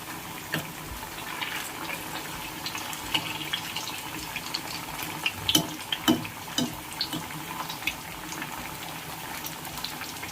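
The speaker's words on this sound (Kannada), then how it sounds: "ಇಲ್ಲಿ ನಾವು ಮೀಡಿಯಂ ಫ್ಲೇಮಲ್ಲೇ ಫ್ರೈ ಮಾಡ್ಕೋಬೇಕು" Fish pieces frying in hot oil over a medium flame for a fish fry, giving a steady dense sizzle and bubbling with small crackling pops throughout.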